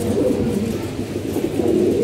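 Pigeons in a coop cooing, soft low throaty coos repeating close by in a steady murmuring cluster without voices.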